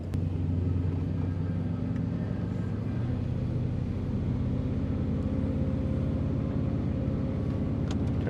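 Low, steady rumble of a truck's idling 454 engine, close and constant throughout with no revving.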